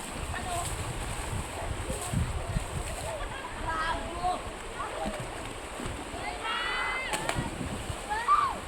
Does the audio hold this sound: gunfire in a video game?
no